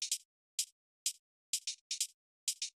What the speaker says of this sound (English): Just a subtle hi-hat that is a hi-hat shuffle for me.